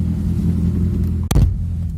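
VAZ 2111 car pulling away from a standstill, a steady low engine rumble close by, broken by a sharp knock or clunk midway before the idle-like drone resumes.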